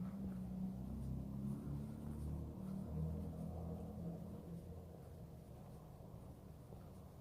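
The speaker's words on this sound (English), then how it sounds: "a really big truck went by very close to the same time" A deep, steady rumble of a large truck passing very close by, low and continuous, slowly easing off toward the end with no voices.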